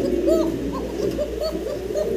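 A young male pigeon held in the hand coos in a string of soft, throaty calls, close and fairly quiet, repeating every half second or so with no talk.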